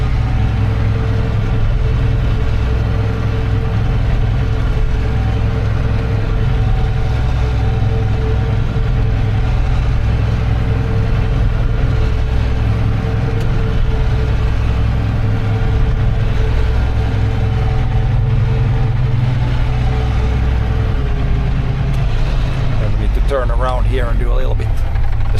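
A tractor engine drones steadily and loud while plowing a field, a constant low rumble throughout, with a brief rattling clatter near the end.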